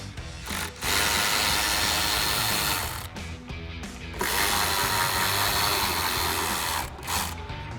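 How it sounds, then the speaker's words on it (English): A ratchet with a 7mm socket backs out trim screws on a 2014-2018 Silverado 1500, giving rapid close clicking in two long bursts separated by brief pauses. "So we've got our 7mm socket on our ratchet. We're going to pop off the 2 screws and remove this."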